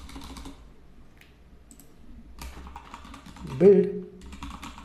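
Computer keyboard keys are typed in quick clicking bursts up close while someone speaks over them in a quiet room.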